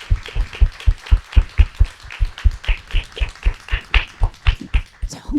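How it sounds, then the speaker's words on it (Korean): Small book talk audience claps in a steady rhythmic beat, distinct individual claps close and even, with no talking over them. "네, 그럼 박수 한번 크게 쳐볼까요?"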